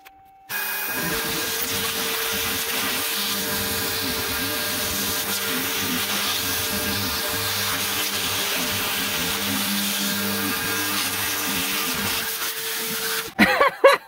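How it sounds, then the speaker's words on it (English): A shop vacuum hums steadily while carbon fiber sheet is cut with a power tool, the tool's whine running loud and continuous for most of the stretch before stopping, followed by a few brief clattering handling sounds near the end. "The vacuum caught it."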